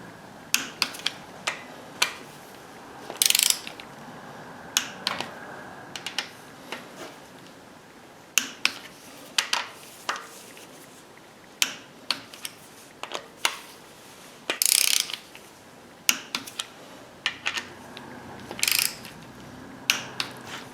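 A hand ratchet clicks through short repeated bursts while the rocker bolts on a 2011 Subaru Outback engine are tightened to torque in sequence, close up with no talk, each burst a quick run of sharp metallic ticks separated by brief pauses.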